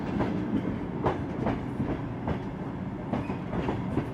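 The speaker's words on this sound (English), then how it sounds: "The Zarengold travels through the famed Gobi Desert with its dunes and hardy vegetation." The Zarengold Trans-Siberian train rumbles through the Gobi Desert, with a steady low roar and regular clickety-clack beats of the wheels over the rail joints.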